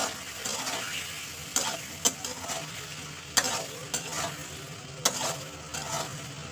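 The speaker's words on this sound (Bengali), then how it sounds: "আদা রসুনটা দেওয়ার পর ভালো কষিয়ে নেবো তেলের উপরে" Fish with ginger garlic paste frying in oil and being stirred, a soft steady sizzle punctuated by sharp spoon clicks and scrapes against the pan at uneven intervals, close and fairly quiet.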